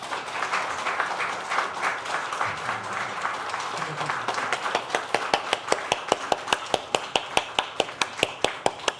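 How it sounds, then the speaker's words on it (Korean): A church congregation at Sunday worship claps together, first as a dense scattered applause, then settling into loud, steady rhythmic clapping in unison. "우리 성도님들께서 축복의 박수를 크게 해주시면 좋겠습니다"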